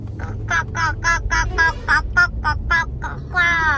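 A person imitates a bird with a rapid series of about a dozen clucking, quacking calls in a steady rhythm, loud and close.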